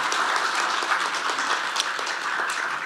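A seminar audience at a startup talk breaks into applause, a dense, loud and steady clatter of many hands clapping close by that fills the moment without pause.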